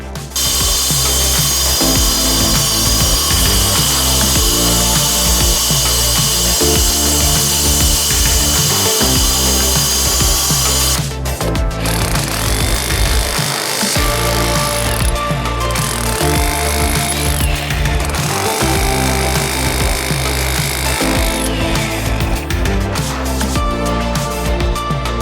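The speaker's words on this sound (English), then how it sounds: "So I'm now going to grind that out and gun it out and get ready to set the new one in." A grinder cuts out the old surround of a manhole cover, a loud continuous high-pitched whine that drops away and restarts, with rough grinding bursts and tool clatter in between.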